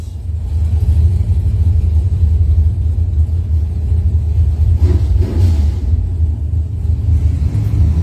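Two doorslammer drag cars, a '76 Camaro and a Gen 2 Mopar, rumble loudly at a test-and-tune event, with steady low engine drone and a brief surge of revving midway, no talk.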